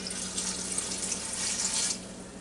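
Water poured steadily from a tap into a Ninja Foodi Deluxe pot, a close, continuous splashing rush lasting a couple of seconds before tapering off, with no voices.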